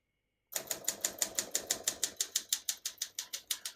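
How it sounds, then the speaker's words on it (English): A 1962 Olympia SM7 portable typewriter being typed on, a string of about fifteen evenly spaced, sharp metallic key strikes close up, starting after a short silence. "We're going to keep that on single for now and finish typing."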